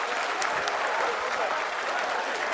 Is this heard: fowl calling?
no